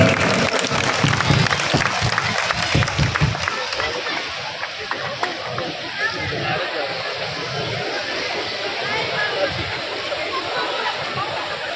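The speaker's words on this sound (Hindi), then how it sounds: "एक बार जोरदार तालियों से अभिनंदन" At a BJP honour ceremony in Bawana, a crowd claps loudly to welcome an MP on stage, amid chatter and background hubbub that continue under the applause.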